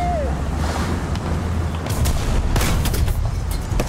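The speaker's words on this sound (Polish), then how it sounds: "Pierwszy strzał." A tank cannon in the War Thunder video game fires its first shot, a booming blast over a steady engine rumble, followed by further sharp bangs.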